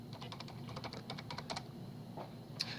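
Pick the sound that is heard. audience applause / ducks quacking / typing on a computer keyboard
typing on a computer keyboard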